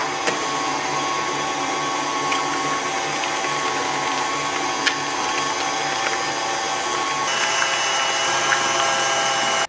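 An electric mixer whirs at a steady, continuous drone while beating cake batter made from scratch, with faint clicks and small knocks over the constant motor hum and a slight shift in tone near the end.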